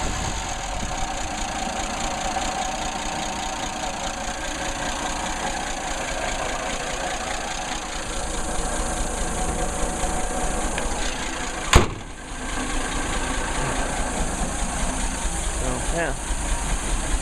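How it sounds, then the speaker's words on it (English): A Nissan Patrol engine idles steadily and evenly at close range, a constant low drone with light mechanical valve noise, under occasional talk and one sharp click partway through. "I need to adjust the valves and see if I can get some of that noise adjusted out of them. But it runs pretty good. Smooth. Idle's nice and smooth."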